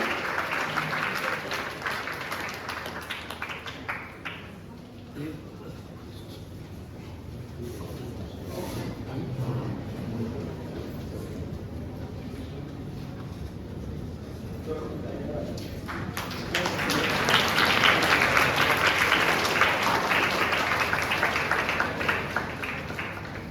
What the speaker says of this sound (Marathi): मला असं वाटतं चांगल्या उपक्रमाला आपण सर्वजण टाळ्या वाजवून त्यांचं कौतुक करूया